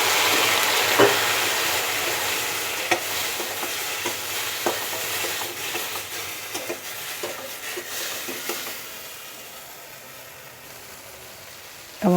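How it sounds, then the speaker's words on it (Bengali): Spice masala with red chilli powder and a little water sautéing in a pan for a puti fish curry, a close hiss broken by stirring scrapes and clacks that thin out toward the end. "এবার একটু আমি কষিয়ে নেব।"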